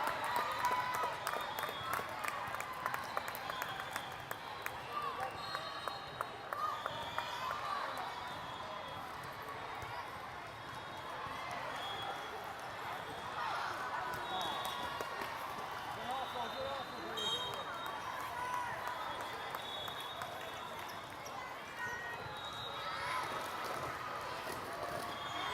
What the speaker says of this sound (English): Got the opening cheer there for Chaos.